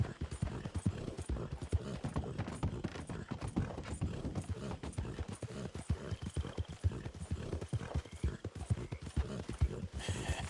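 Rapid, steady clip-clop of horse hooves trotting in the video game Red Dead Redemption 2, close and even, continuing throughout with faint mechanical clicks.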